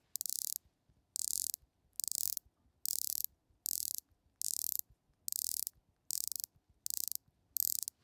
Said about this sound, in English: because it's a bidirectional bezel, let's turn it the other way